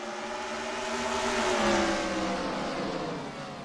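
A pack of race cars roars away at the green flag of a Grand Prix in the United Kingdom, Max Verstappen and Will Power on the front row. Many engines rise together in a dense, loud, sustained swell that peaks midway, then eases slightly.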